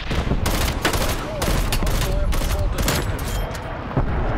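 Dense bursts of gunfire in a Call of Duty match, rapid overlapping shots cracking loudly for several seconds with brief gaps between volleys.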